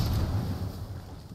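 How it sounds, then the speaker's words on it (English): Grenade blasts in the shooter game Apex roll together into a dense, continuous low rumble, loud and boomy, with no clear gaps between the bursts. "Grenades going everywhere."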